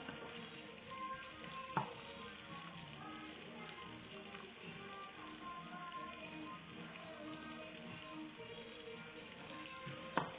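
Onions fry lightly in hot oil for a Thai peanut chicken curry, giving a soft, steady crackling sizzle that runs throughout, with a couple of sharp clicks from a spoon or pan.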